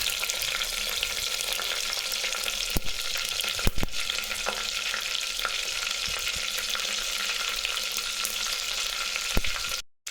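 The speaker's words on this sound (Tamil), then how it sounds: "கடுகு நல்லா பொரிஞ்சு இந்த மிளகா" Mustard seeds and chillies spluttering in hot oil for drumstick-leaf sambar, a steady bright frying hiss with sharp pops and a few clinks throughout, no voice.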